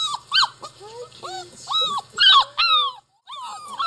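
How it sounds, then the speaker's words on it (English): Dogs on the grass whimper and yip in short, high, whiny bursts with a low growl beneath, close and loud, while a person talks over them. "Oh, good dog."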